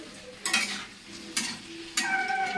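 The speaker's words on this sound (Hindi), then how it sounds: "किचन में देखिए आलू भूंज रही हूँ" Potatoes frying in a home kitchen pan: a steady soft sizzle runs throughout, broken by three bright scraping stirs of a utensil at close range, with no voices.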